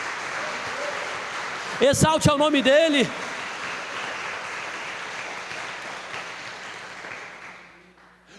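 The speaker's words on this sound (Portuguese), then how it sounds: "Você pode exaltar o nome do Senhor Jesus com as suas palmas." A church congregation claps in praise of Jesus, a dense and steady patter throughout. A preacher's voice briefly rises over the clapping before it tapers off near the end.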